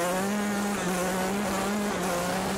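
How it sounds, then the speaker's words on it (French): A Yamaha YZ dirt bike engine, 125 or 250, holds a high, buzzing steady note with a slight wavering pitch as the clutch is worked, loud and continuous with no talking. "On va essayer avec un petit coup d'embrayage."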